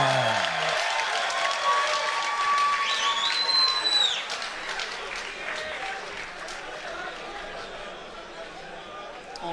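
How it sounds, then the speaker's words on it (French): A boxing crowd greets a fighter's ring introduction with sustained applause and cheering, steady then gradually easing, as a commentator talks over it. "On constate que la foule est contente de voir Batir ce soir, qui est bien applaudi"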